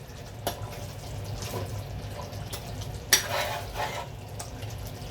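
Sardine curry being stirred in a pan with curry leaves, heard as soft scraping and a light bubbling simmer, broken by a few distinct knocks of the spoon against the pan, one louder clack midway.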